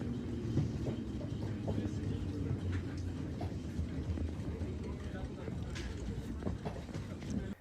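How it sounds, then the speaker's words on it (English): A cable car climbing a mountain near Chamonix, France rumbles and rattles along with a steady low mechanical drone, scattered clacks, and faint murmuring in the background. "there is a cable car that takes you up to the summit of the mountain"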